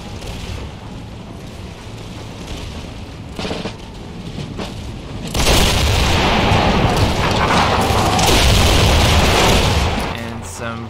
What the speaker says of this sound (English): Volleys tear through this French infantry before the Prussians charge